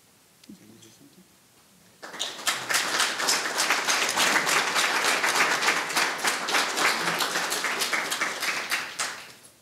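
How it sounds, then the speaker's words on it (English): Audience applause breaks out after a quiet moment at a church ministry gathering, a dense, steady wash of clapping that holds loud for several seconds before easing slightly at the end. "Thank you for that clap."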